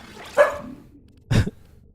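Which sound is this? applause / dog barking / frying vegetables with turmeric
dog barking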